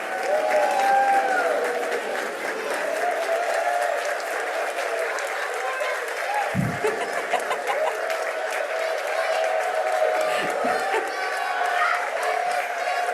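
A crowd of students and educators applauds at a green schools event, with dense clapping under sustained tones and scattered cheers, laughter and a few whoops throughout.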